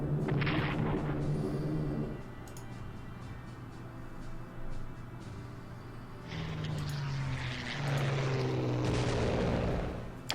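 Continuous rumbling bombardment and artillery fire in the Strategic Command World at War strategy game, with steady low booms and droning engine-like tones throughout, loud and dense without pauses.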